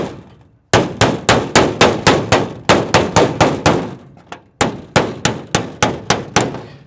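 Repeated sharp metallic clangs from a screwdriver notch punching into sheet metal on a mining trailer build, about eighteen evenly spaced loud strikes in two bursts separated by a brief pause.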